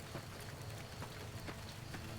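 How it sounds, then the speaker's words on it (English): Rain falls in the video game Fallout: New Vegas, a faint, steady patter of droplets over a soft continuous hiss, heard alone. "This rain looks pretty good. Full droplets coming down."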